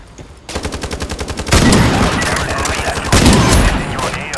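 Rapid automatic gunfire from a K2 rifle in the online shooter Ironsight, sustained bursts of loud shots at a steady rhythm, close and dense, with game effects layered in.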